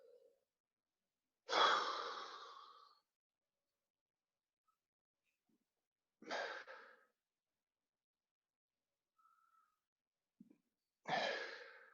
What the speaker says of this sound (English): So a lot of breathing out,